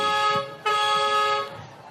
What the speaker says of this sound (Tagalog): Lakas ng busina, no?